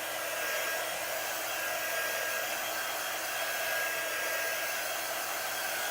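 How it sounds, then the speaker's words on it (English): A hair dryer runs continuously to dry a Dollar Tree DIY patriotic craft, a steady, close, unbroken blowing whoosh at an even loudness with no talking. "The dryer might help a little bit to just like solidify this."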